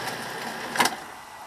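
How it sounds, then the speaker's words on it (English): A Betamax video recorder whirs faintly as its mechanism spins, a soft continuous mechanical hum with a short louder rattle partway through. "You hear that whirring?"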